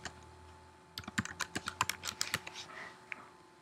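A quick, close burst of about a dozen keystrokes on a computer keyboard as a file name is typed into a save dialog, following a second of near silence and then trailing off into a few scattered taps.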